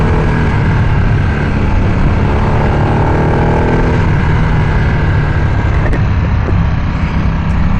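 A 2025 Harley-Davidson Nightster with factory exhaust rides through Milwaukee, Wisconsin, its steady low engine drone mixed with heavy wind rush, loud and continuous without pauses.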